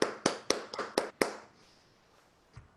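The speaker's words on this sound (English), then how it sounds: "a huge round of applause" Audience clapping at the close of an online bardic showcase, a handful of sharp separate claps in quick succession that die away after about a second and a half, leaving quiet room tone.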